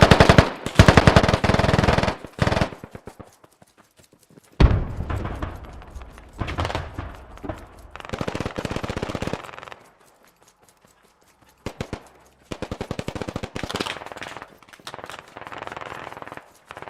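Automatic gunfire in an online shooter video game aimed at a vehicle's tires, rapid bursts of loud shots in several clusters with short silent gaps between them.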